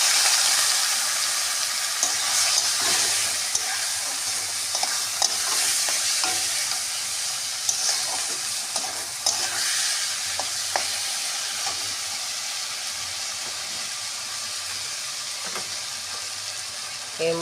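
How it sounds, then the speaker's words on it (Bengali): Raw rice stirred and fried in oil with dry red chillies and bay leaves for prawn pulao gives a steady bright sizzle, with frequent scraping clicks from the spoon against the pan throughout. "এবার আমি চাল দিয়ে দেবো।"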